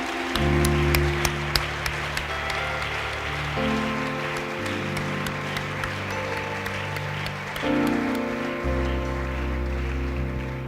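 A church congregation at a Kinyarwanda-language service breaks into sustained applause, a dense wash of clapping that runs steadily throughout, with organ or keyboard chords sounding underneath.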